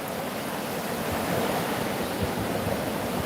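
Waves rolling onto a seashore, a dense unbroken roar of surf that stays level throughout, close and enveloping, with no one speaking.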